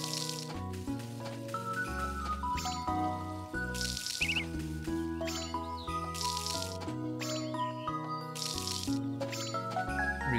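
Crops being watered in the farming game Story of Seasons: A Wonderful Life, with soft splashy water effects repeating every second or two over steady tonal background music, no talk.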